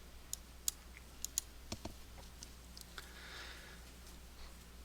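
A few computer mouse clicks, sharp and faint, scattered as single ticks and quick pairs over a quiet room hum, with no talk.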